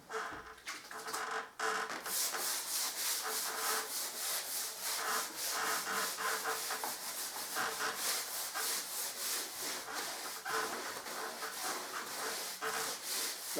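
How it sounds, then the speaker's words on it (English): A brush scrubs sealer into a plaster wall below a picture rail, giving close, rhythmic rasping strokes that repeat steadily for several seconds with no voices. "Scrub it in. What you're after doing is working it in to the plaster without getting it everywhere."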